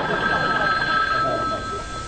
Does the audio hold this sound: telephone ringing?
yes